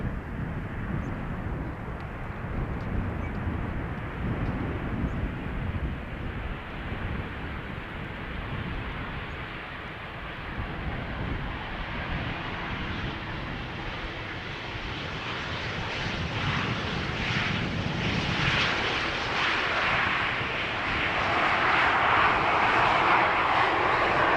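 Airliner landing on runway 18R at Amsterdam Schiphol Airport, touching down with smoke from the tyres: a steady, broad engine roar held throughout, swelling louder toward the end as the aircraft comes nearer, with a little wind noise.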